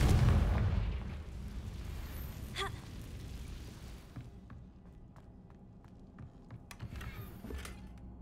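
A Confringo blasting curse explodes in a Harry Potter video game, opening with a loud, deep boom that fades into a low rumbling tail, with scattered faint clicks afterward and no voices.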